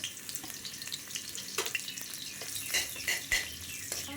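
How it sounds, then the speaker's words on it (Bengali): Onions hiss as they go into hot mustard oil in a wok, a low, steady sizzle broken by a few sharp crackles and light clinks. "এখন সর্ষের তেল দিয়ে দিলাম এখন পেঁয়াজগুলোকে দিয়ে দিব এখানে"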